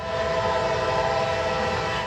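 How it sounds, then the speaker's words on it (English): A train horn blares at a railroad crossing with a steady, loud, sustained multi-tone blast that lasts the whole moment over a rumbling background. "The train's horn blares, but the kids don't move."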